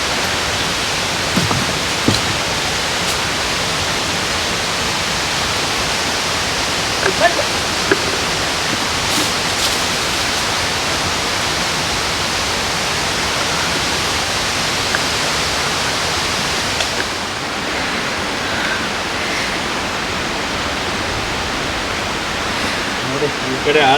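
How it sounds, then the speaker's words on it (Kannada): Dudhsagar Waterfall roaring as a dense, steady broadband rush throughout, loud and constant from a close vantage during a trek toward the top of the falls, easing slightly near the end. "ವಿಶ್ವವಿಖ್ಯಾತ ದೂದ್ ಸಾಗರ್ ಜಲಪಾತ"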